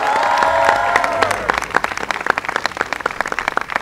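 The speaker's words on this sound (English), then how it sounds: "Another round of applause for Governor Cuomo." A crowd at a Bronx political rally cheers and applauds, the roar giving way to steady, loud clapping that continues for several seconds.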